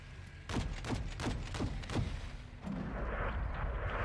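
A rapid series of five heavy rocket blasts in a video game booms in quick succession, followed by a lingering rumble and hiss as the explosions die away.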